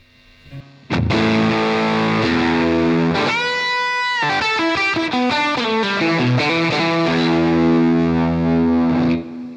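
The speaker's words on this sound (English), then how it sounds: "we can take it into sort of full fuzz mayhem" Heavily distorted electric guitar through a Fjord Fuzz Embla fuzz pedal at full gain, thick saturated fuzz, playing sustained notes and chords loudly and continuously for several seconds before cutting off.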